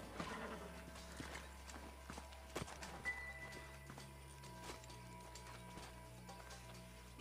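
Horses' hooves clop steadily on the ground in the Western video game Red Dead Redemption, a continuous rhythmic clatter over a dense bed of ambient game sound and music, with occasional sharper knocks and no speech.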